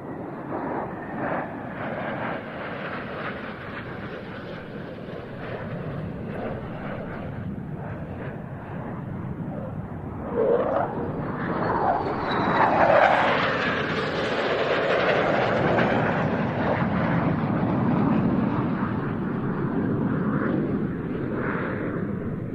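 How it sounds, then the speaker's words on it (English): Two Romanian Air Force F-16 jets pass through at an airshow, a rising roar swelling to a loud sweeping jet blast midway and holding as they go by, no voices. "now flying through for a second time, the 2 Romanian F-16s"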